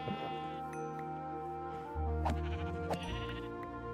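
Sheep in Minecraft bleat several times in short, close game-sound calls, layered over steady background music with no voices.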